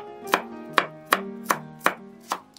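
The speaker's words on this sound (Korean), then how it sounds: "마늘 두 쪽은 굵게 다지세요." Two garlic cloves coarsely minced with a knife on a cutting board, six sharp, evenly spaced chops with ringing board knocks, close and distinct, no speech.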